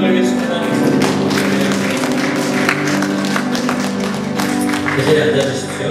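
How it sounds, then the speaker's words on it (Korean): A church congregation claps together at a Korean worship service, a loud, dense wash of applause that keeps going throughout, with musical tones ringing underneath. "주신 하나님께 박수를 감사드리겠습니다"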